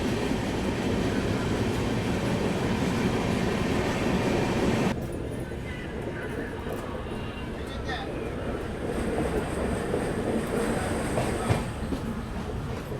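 Bengaluru–Belagavi Superfast express 20653 running on rails near Yeshwantpur station, a loud, steady rumble and rattle of the moving train that continues throughout, with a slight change in tone partway through.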